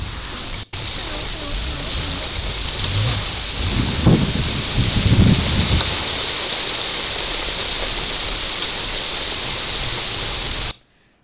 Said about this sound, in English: It's just starting to rain.